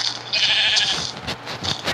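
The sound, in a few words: sheep bleating in Minecraft video game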